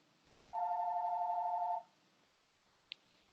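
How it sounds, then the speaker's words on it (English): A mobile phone rings during a land use advisory committee meeting: one steady electronic ringing tone holds for about a second, fairly loud against a quiet room, followed by a brief click and a faint sound at the end. "Of course, my phone is ringing."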